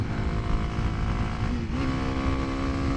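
A 2023 Kawasaki KLX300SM single-cylinder motorcycle engine holds a loud, raised, steady rev up close, with a brief dip and a slightly higher pitch toward the end.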